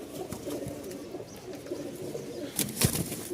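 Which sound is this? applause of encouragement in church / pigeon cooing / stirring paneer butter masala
pigeon cooing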